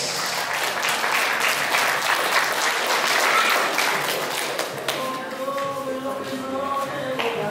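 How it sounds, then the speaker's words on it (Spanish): Guests at a marriage proposal celebration applaud loudly and steadily, a dense close clapping wash that thins toward the end as a few voices and music-like tones emerge beneath it. "Para quien pido fuerte y fuerte de aplausos."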